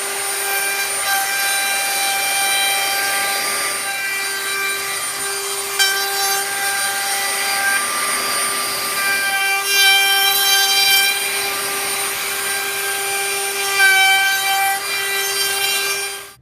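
Hand saw cutting half-inch-thick planed wooden trim pieces, steady rasping strokes with a ringing whine, repeated back-and-forth passes close up and alone.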